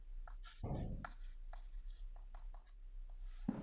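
Pen scratching across paper while solving a Class 10 maths problem, a series of short scratchy strokes close by with quiet pauses between them.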